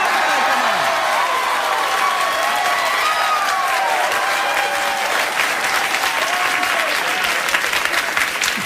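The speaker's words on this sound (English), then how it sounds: "I don't want you to hold your applause." A late-night talk show studio audience applauds loudly and steadily throughout, a thick, sustained wash of clapping with a few scattered cheers and whoops rising above it, and some voices mixed into the crowd noise.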